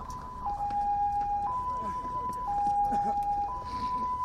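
An ambulance carrying a rescued coal miner sounds its two-tone hi-lo siren, alternating steadily about once a second at moderate distance amid crowd and outdoor noise at a mine rescue site.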